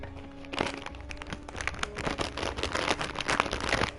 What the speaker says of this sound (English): opening a sealed packet of Tato cheese and onion crisp